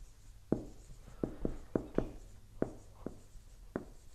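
Pen handwriting on paper, heard as a series of short scratchy strokes roughly every half second, close and fairly quiet against a low background hum.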